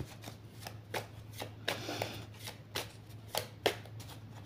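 A deck of cards is shuffled by hand in a run of quick riffling and slapping bursts, close and fairly quiet over a low steady hum, with no talking.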